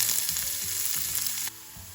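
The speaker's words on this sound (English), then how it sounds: "Once the oil heats up, we are going to add our onions to it." Onions sizzle in hot olive oil in a pan, a loud, close hiss with a few stirring scrapes that drops sharply to a quieter frying hiss partway through.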